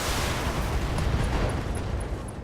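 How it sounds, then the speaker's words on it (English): An AC-5 autocannon ammunition explosion inside a mech in the BattleTech video game, a dense, sustained rumbling roar of blast debris that fills the whole moment without pause. "AC-5 ammo explosion."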